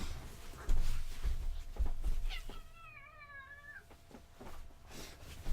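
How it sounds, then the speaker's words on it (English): A three-legged house cat at a door gives one drawn-out, wavering meow, close and clear, amid soft scratching and bumping against the door. "My cat is scratching at the door. He wants to leave."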